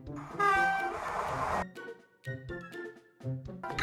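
A freight train's horn blares loudly for just over a second, then gives way to irregular, rhythmic low rumbling bursts with brief gaps between them.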